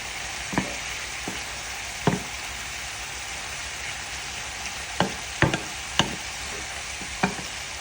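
Turkey fillet sizzling steadily in a pan, a constant close frying hiss broken by scattered sharp pops and spatters, with no talking.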